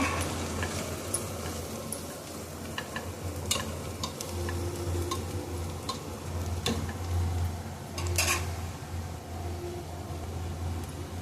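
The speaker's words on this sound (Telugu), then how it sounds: "మళ్ళీ ఒకసారి కలబెట్టాలి." Masala vada pulusu base with turmeric and garlic stirred in a pan, soft scraping strokes and scattered taps over a low simmering sizzle and background hum.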